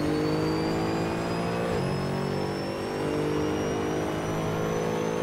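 Mercedes-Benz SLS AMG GT3 race car in Assetto Corsa on a qualifying lap at Spa, its engine droning loud and steady with a brief dip as revs drop and climb again, continuous throughout.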